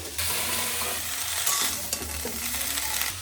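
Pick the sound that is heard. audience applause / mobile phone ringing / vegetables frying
vegetables frying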